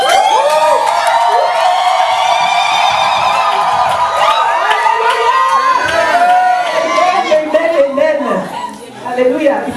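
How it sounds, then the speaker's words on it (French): A church congregation cheers and shouts for joy during a lively worship service, a dense crowd roar with whoops and laughter sustained throughout, loud and close. "On dit, fais des cris de joie."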